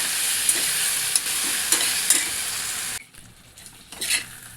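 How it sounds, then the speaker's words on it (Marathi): A ground spice paste sizzles and is stirred in a pan over a gas flame while cooking a bottle gourd dish, a close, steady hiss with several spoon scrapes, then a sudden drop to quieter frying near the end. "आता टाकूया आपण वाटण केलेलं ते पण चांगलं आपण असं परतून घेऊया"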